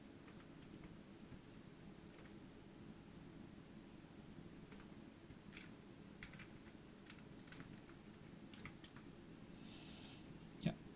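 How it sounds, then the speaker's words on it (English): Typing on a computer keyboard in a quiet room, a faint scattering of soft key clicks in short bursts over low background hiss, ending with a slightly louder tap. "I'm just going to quickly type"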